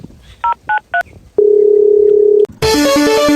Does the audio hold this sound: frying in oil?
no